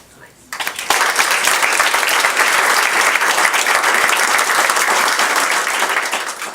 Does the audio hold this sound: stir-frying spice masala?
no